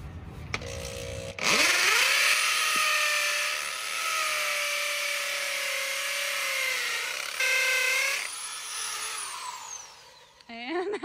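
A power drill bores into a cargo trailer being converted into a tiny home camper. A loud, sustained whine holds steady pitch for several seconds, then winds down toward the end, with a brief higher-pitched whirr near the close.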